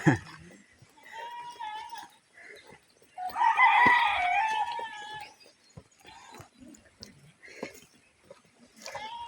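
A rooster crows loudly nearby amid scattered clucking from chickens, while people talk intermittently around the birds.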